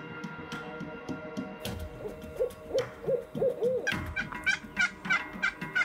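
A hunter imitates owl hoots in a series of low, rhythmic calls, and higher answering hoots follow from nearby woods, clear and fairly loud, with no talking.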